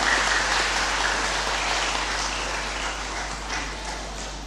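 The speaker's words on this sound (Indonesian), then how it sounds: "Mari kita tepuk tangan untuk Bapak Uskup lebih meriah." A congregation applauds the bishop at a parish silver jubilee thanksgiving mass in Sorong, a continuous dense wash of clapping that fades slightly toward the end.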